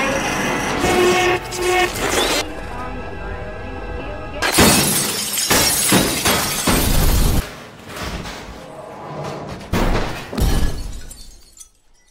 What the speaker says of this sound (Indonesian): lampu di ruangan itu berkedip-kedip hingga akhirnya semua bolamnya pecah